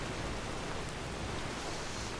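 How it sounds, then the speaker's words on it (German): Steady rain falls in the video game Skyrim, a dense, even hiss of droplets with no break or swell, heard alone without voices. "Kann dieser Regen wieder eigentlich mal aufhören?"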